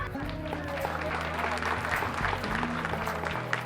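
A village social audit meeting audience claps in welcome, a dense patter of hands from a crowd, moderately faint, with a voice speaking over it.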